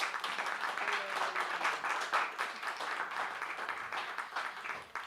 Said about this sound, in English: Please give them a warm round of applause for making the time.